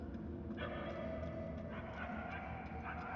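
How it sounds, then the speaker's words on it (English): Small dog yapping and barking in a video game, faint and steady in the background, repeated yips over a continuous low rumble. "The barking is getting fainter."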